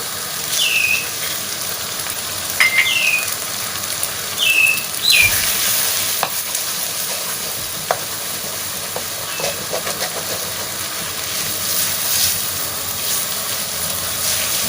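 Eggs stir-fried with sweet preserved radish in a hot pan give a steady close hiss of frying, with a few thin squeaks and scattered scrapes as the mixture is tossed and stirred.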